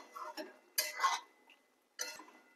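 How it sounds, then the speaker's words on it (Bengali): A spoon stirs soybean and potato curry in a pot, three separate bursts of close metallic scraping and clinking with quiet pauses between. "হালকা করে একটু নেড়ে নেব।"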